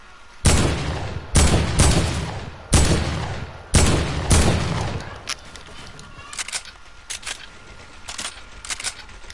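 Fortnite gunfire: four loud, close, evenly spaced shots ring out and decay, followed by a quieter scatter of lighter pops and distant shots.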